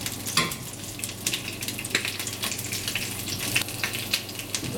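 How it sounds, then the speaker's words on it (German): Parsnips fry slowly in vegetable oil in a pan with a steady, close sizzle scattered with small crackles and pops. It runs continuously, with no one speaking. "Pflanzenöl und lassen die schön langsam braten."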